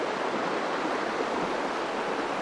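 Spring-fed creek water flows steadily among spruce trees on a hillside, a dense, even rushing wash heard close and alone without any voices.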